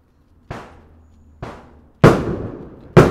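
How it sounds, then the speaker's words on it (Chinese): Firecrackers burst outside a home at night, four sharp, loud cracks about a second apart, the last two louder and closer, each trailing off in a short rumble. "然后感觉那鞭炮声就是炸在我家旁边"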